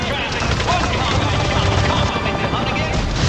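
Helicopter from the Resident Evil 4 Remake trailer, a loud, steady, close rotor chop with continuous engine roar throughout, and voices talking over it.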